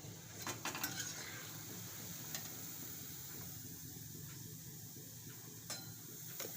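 Fried fenugreek muthiya lifted out of a pan, with close metallic clinks and scrapes of utensil against pan over a soft background sizzle, a few sharp taps standing out.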